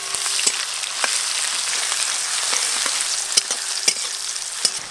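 Chopped onion sizzles in oil over a clay village stove, a bright, steady crackle close up with occasional sharp pops and a few stirring scrapes, no voices.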